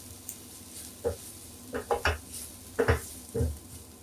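Spice powders roasting in a pan over low flame, a faint sizzle under a handful of scraping stirs and light utensil knocks against the pan, spaced irregularly and heard up close without speech.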